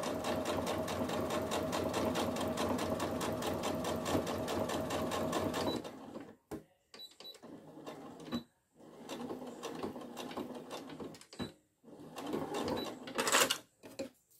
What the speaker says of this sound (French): Donc là, je couds à un demi-centimètre du bord.